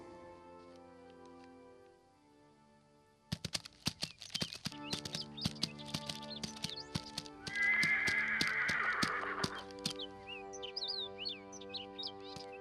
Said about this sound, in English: when he was riding on his horse